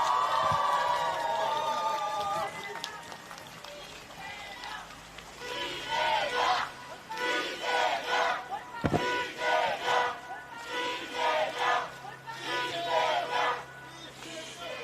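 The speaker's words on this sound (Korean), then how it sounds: "힘찬 환호해 주시기 바랍니다." A large crowd at an outdoor political rally breaks into loud, rhythmic cheering and chanting in repeated waves, some shouting voices rising above the din after an announcer's call.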